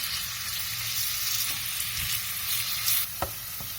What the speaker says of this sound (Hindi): लो मीडियम हीट पर हम प्याज को बिल्कुल हल्का गुलाबी करेंगे।